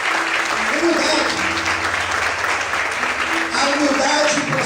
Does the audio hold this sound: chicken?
no